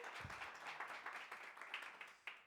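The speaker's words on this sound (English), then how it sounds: "a big round of applause for Monica, please" Applause from the audience at a product design talk, steady clapping from a modest crowd, heard faint and distant for a couple of seconds.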